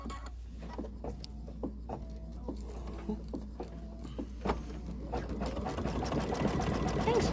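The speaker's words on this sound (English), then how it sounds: "you could leave the green thread in your machine and advance to the next stitch" A BabyLock embroidery sewing machine stitches in a steady rapid patter with regular mechanical ticks, moderately close, and the whirring builds slightly toward the end.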